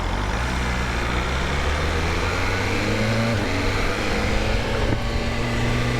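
A 2025 BMW S1000RR M Sport motorcycle engine drones steadily while riding on the road, with continuous loud engine tone, wind rush and slight pitch shifts under the ride.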